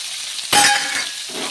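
Capsicum and chopped carrot hitting hot oil for chira pulao, a sudden burst of sizzling with a clink of the utensil, then a softer fry and a second stir near the end.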